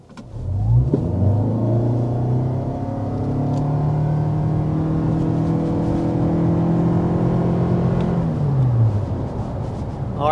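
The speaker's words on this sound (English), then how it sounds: "let's go ahead and start with a hard acceleration" A 2026 Toyota Camry XSE's engine revs up hard under full acceleration to 60 mph, pulling steadily through the gears, the engine note rising and holding loud and close throughout.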